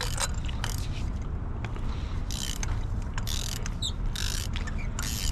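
A hand ratchet with a 14mm socket clicks fast and continuously while loosening a spark plug on a 2013-2017 Honda Accord, up close and dense with metallic pawl chatter.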